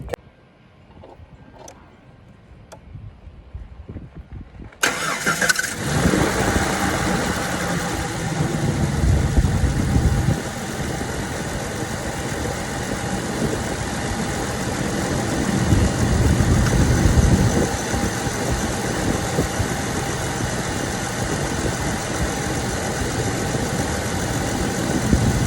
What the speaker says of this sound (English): So now we're gonna go ahead and start our vehicle up, get everything rolling